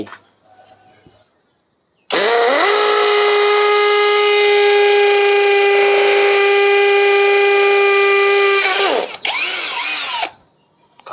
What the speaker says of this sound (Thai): แต่ผมจะลองเจาะดูสักนิดนะครับ เพื่อให้หายข้องใจ